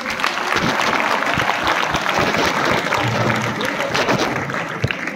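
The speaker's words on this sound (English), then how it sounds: "Let's have a round of applause for all the girls." A school celebration audience gives a sustained, loud round of applause for the girls after their stage performance, a dense crowd clatter with some voices underneath.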